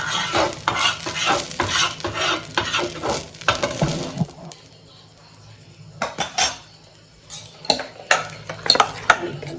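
Rava poha uttapam batter cooks on a hot pan, a light sizzle beneath busy scraping and clinking of a metal spoon, fading to quieter frying with occasional taps.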